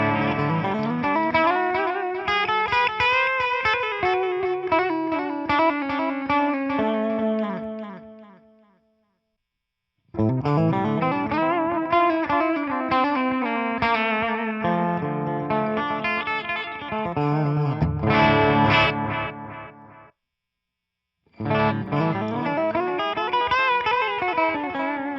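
An electric guitar played through a cheap amp's built-in delay effects rings out in sustained, bending phrases with echoing repeats trailing each note, loud and close, separated by two short silent gaps.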